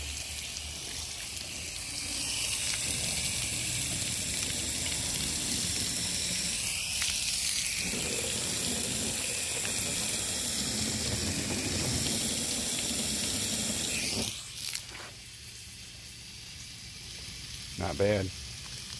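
Water runs and splashes steadily over a ceramic-coated 1995 Trans Am outdoors, a broad continuous hiss that stops abruptly near the end, followed by a few faint sounds.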